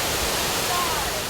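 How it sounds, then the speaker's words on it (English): Water pours down steadily at a theme park boat ride as the boat passes through a waterfall, a loud, continuous broadband rush close by. "See, look, we get to go through the waterfall."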